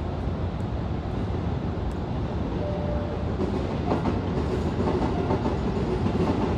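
Hankyu trains run through Umeda station in Osaka, a continuous loud rumble of wheels and rail clatter with rhythmic clicks, heard close with no voices.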